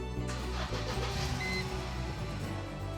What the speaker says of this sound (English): Engine runs sweet.